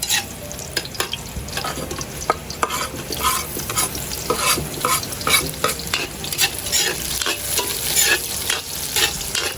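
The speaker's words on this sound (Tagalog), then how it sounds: "Ginigisa po talaga natin yung luya para po mas lumabas yung aroma" Ginger is sautéed in a pan for fish sinigang, a Filipino tamarind fish soup, with a close, continuous sizzle broken by repeated scraping stirs, and no voices.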